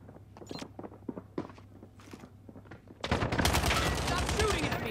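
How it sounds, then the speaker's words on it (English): Rapid video-game gunfire breaks out in a loud sustained burst in a survival bounty shooter, following several seconds of scattered footsteps and light thumps, with voices talking alongside. "Stop shooting at me!"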